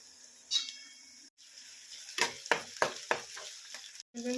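Onion and tomato fry in a pan for an okra curry, giving a quiet sizzle broken by several short bursts of stirring, with brief silent gaps.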